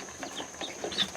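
Chicks and hens squabbling to establish their pecking order, a brief flurry of short clucks and peeps in the background.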